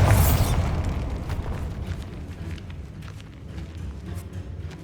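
A Bombarda spell blast in the video game Hogwarts Legacy, set in a tomb: one loud, deep explosion at the start that fades into a long rumbling, crackling tail of falling debris.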